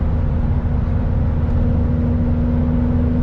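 A Porsche 911 Carrera 4 GTS cruises in 8th gear, its engine giving a steady, close, low droning hum with no change in pitch throughout.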